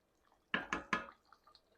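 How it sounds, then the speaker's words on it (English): Three quick wet scrapes and sloshes as macaroni is stirred in a pot, close and fairly soft, followed by faint light clinks. "I'm giving this a quick stir just to make sure my macaroni isn't sticking to the bottom"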